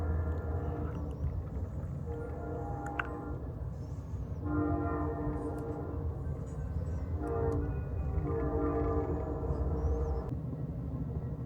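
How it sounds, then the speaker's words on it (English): The California Zephyr passenger train rumbles steadily through a rail yard in Illinois, with a horn-like tonal blare sounding in several long bursts over the continuous low rolling noise. "Going through the train yard here."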